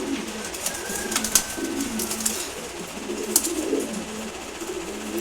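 A pair of racing pigeons coo softly in repeated low rolling phrases, fairly close against a quiet background with occasional faint clicks.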